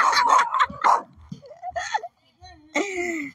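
A dog in a Philippine neighbourhood gives a few short yips and barks between bursts of nearby talk, fairly close and loud.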